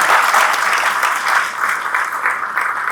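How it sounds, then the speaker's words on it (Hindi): An audience at a book launch ceremony breaks into loud, sustained applause, many hands clapping steadily throughout. "जोरदार ताली।"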